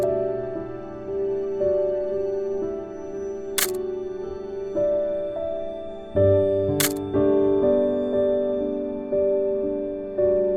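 Olympus Flex twin-lens reflex camera: two sharp, separate mechanical clicks of shutter cocking and film advance, spaced a few seconds apart and standing out over steady background music.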